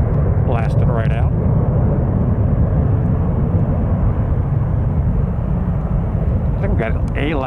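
Jet airliner rolling down the runway and blasting out on takeoff during winter storm weather, a loud steady engine roar filling the whole stretch, with brief voices cutting in near the start and again at the end.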